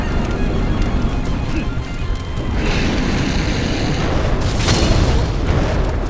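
A grenade explosion in Yakuza: Dead Souls rumbles as a loud, sustained boom that swells around the middle and again near the end, with the blasts thick and continuous rather than sharply separated.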